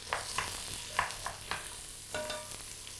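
Celery root lightly sizzling in a pan with scattered scraping and stirring clicks, fairly quiet and close, no voices.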